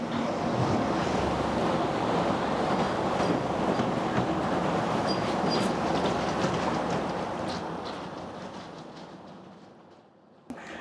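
A train rolls beneath a one-lane bridge at Little Current, heard from above as a heavy, continuous rumbling roar that holds steady, then gradually fades and thins away at the end.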